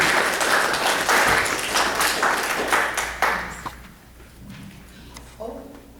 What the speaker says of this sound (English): give a round of applause in advance for our presenters today